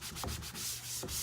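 Firm hand rubbing across a chalkboard surface to lift chalk residue, a close, short burst of dry scrubbing strokes with no talk.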